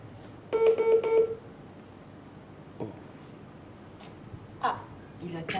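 A telephone keypad sends a quick run of dialing tones, a few beeps in close succession, then falls away to a quiet room with scattered faint knocks.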